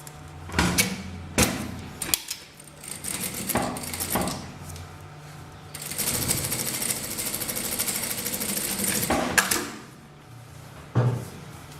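A sewing machine runs a seam joining patchwork fabric blocks for a 3D scrap-fabric rug, a sustained stitching burst framed by knocks and clatter from handling the machine and cloth.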